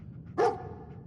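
A dog in the video game Fallout 4 gives a single short, close bark against a faint background hum.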